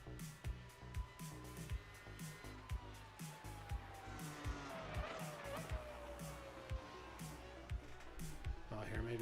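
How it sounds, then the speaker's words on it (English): Race car engine lapping Suzuka in a racing video game, a sustained whining drone with pitch sweeping up and down through gear changes, rhythmic thumps underneath, fairly faint and steady throughout. "Just love the sound of this car."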